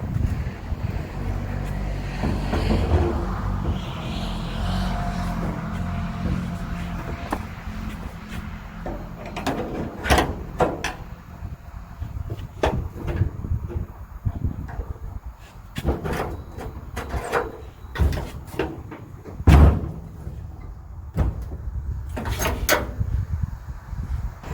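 Hand-formed sheet-metal passenger door being fitted on a truck cab, with clunks, scrapes and sharp metallic knocks scattered through a workshop, ending in firm thuds as it shuts.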